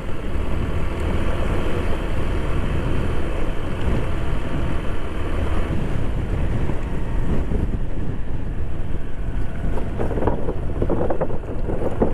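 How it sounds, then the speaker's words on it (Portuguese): Strong wind on a dusty dirt road through dry wetland country roars steadily and loudly, buffeting the microphone in continuous gusts with no voices heard. "Tá muito forte o vento."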